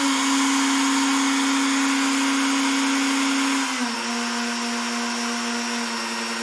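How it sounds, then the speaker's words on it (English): A CNC router spindle runs with a loud, steady high-pitched whine, close and alone. Partway through, its pitch drops slightly and settles lower as the speed is turned down. "Okay, put on the spindle."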